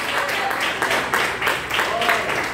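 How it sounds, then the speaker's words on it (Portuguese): Church congregation clapping steadily in rhythm during a joyful worship service, a dense, fairly loud wash of palms with voices mixed in underneath. "Palmas bem alegres para Jesus."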